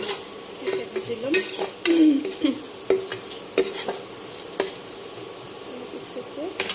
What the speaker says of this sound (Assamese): এতিয়া ভাজি ল'ম।